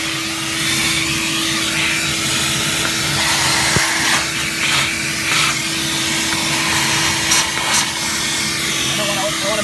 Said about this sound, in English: Put it on the wet dry vac setting for the wet.